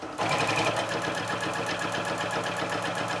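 A sewing machine stitches through layered rag quilt squares along a one-inch seam, producing a fast, steady, rhythmic chatter that is loud and close and runs continuously.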